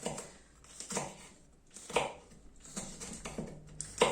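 A knife slices through fresh chillies on a cutting board while Thai curry is being prepared, giving a few separate, close knocking cuts in an uneven rhythm with no voice over them.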